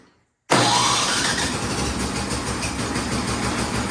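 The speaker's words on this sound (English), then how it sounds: "All right, it starts, it runs, but it will not idle." A Yard Machines snowblower engine catches abruptly after a moment of silence and roars on loudly and close, running rough and steady with no talking.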